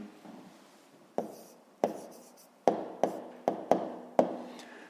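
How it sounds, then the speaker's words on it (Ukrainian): An answer to a fifth-grade math exercise is written out by hand, heard up close as a run of distinct taps and short strokes of a pen on paper, spaced irregularly, with no talking. "зараз тоді записуємо відповідь"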